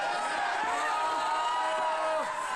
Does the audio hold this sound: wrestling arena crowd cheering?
yes